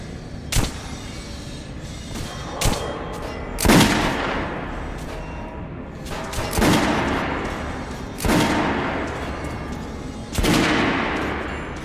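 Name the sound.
gunfire at a shooting range in the video game Metro Last Light Redux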